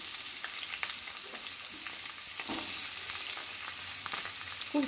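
Diced potatoes fry in hot mustard oil with a continuous bright sizzle and crackle, a few louder spits and a stir or two breaking through, and no talking.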